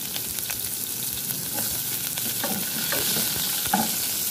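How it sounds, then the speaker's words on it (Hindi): Finely chopped onions frying in hot oil after a light browning step, a dense continuous sizzle with small crackles and occasional stirring scrapes, close and steady throughout with no talking. "लाइट ब्राउन करने के बाद आपने इसके अंदर डालना है प्याज बारीक कटा हुआ।"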